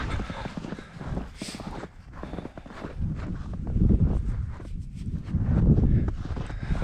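Horse hooves clip-clop along a fence line in the woods, an irregular walking rhythm of fairly close, moderate knocks over steady outdoor background with faint wind.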